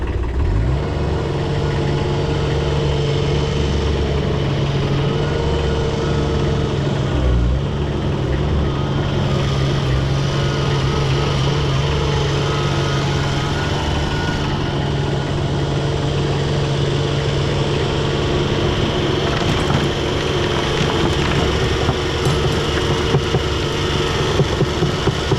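A small tractor's engine drones steadily and loudly throughout while loading manure into a little spreader, its low rumble constant without clear breaks.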